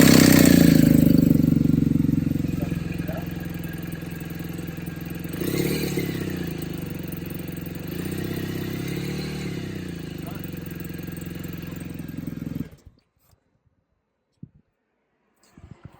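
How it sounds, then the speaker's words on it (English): A BMW R1200GS Adventure motorcycle engine runs loudly up close after exhaust valve actuator installation, revving a couple of times, then cuts off abruptly, leaving near silence with a few small clicks. "I am going to start the bike and just make sure this moves with the exhaust"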